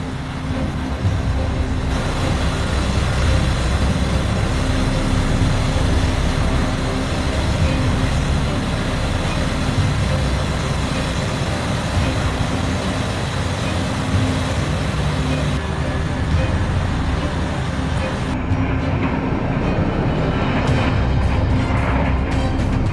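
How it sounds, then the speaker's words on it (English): A Diamond Z wood grinder runs continuously, a loud, steady, dense roar of heavy machinery with a constant low rumble that holds without letup throughout, no voices. "Hour after hour, the Diamond Z doesn't slow down. It keeps grinding, keeps producing"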